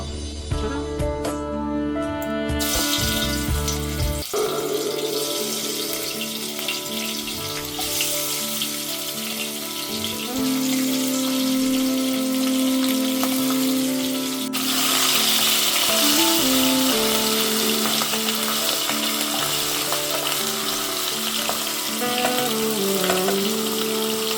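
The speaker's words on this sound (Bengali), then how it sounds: "মাছগুলো বেশ সুন্দর লাল লাল হয়ে ভাজা ভাজা হয়ে গেছে।" Fish pieces fry in a hot wok, a dense, steady sizzle running throughout, partly under melodic music playing in the background.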